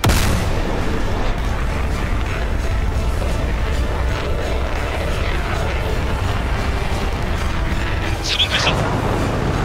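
Artillery guns fire in a battle on a small island in the Yellow Sea, a dense, loud, continuous roar of blasts and rumble with faint voices underneath.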